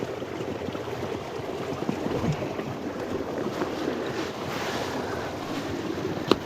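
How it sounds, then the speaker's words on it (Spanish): Water rushes steadily beneath a thin frozen surface layer on a river, a continuous broadband rushing with faint wind buffeting, no voices, constant level throughout. "Mira el agua como pasa y la capita superior congelada."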